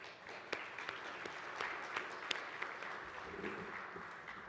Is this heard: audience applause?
yes